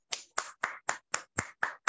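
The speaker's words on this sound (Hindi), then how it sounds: "एक बार जोरदार तालियां।" Sharp claps from an audience at a direct-selling business plan presentation, eight evenly spaced loud bursts in a steady rhythm, close and clear with silence between them.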